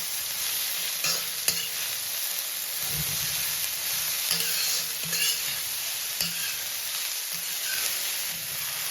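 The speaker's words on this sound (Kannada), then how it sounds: "ಕಟ್ ಮಾಡಿರುವ ಆಮಟೆಕಾಯಿ ಮತ್ತು ಹಾಗಲಕಾಯಿ ಹೋಳು ಎಣ್ಣೆಯಲ್ಲಿ ಬಳಸ್ಕೊಳ್ಬೇಕು." Cut pieces of bitter gourd and hog plum sautéing in hot oil with turmeric, giving a steady close sizzle with occasional stirring scrapes and soft clinks, and no one speaking.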